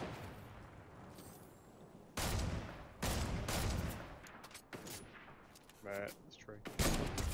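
Gunfire in a Fortnite no-build duos match: several sharp, loud shots in separate bursts over a low background hum, with someone talking briefly near the end.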